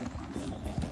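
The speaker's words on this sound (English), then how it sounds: "on a horse called Betty Boo, riding around a riding ring, practicing for a course tomorrow" A horse's hooves clip-clop on the ground of a riding ring during dressage practice: a few uneven footfalls, moderately close, with no talk over them.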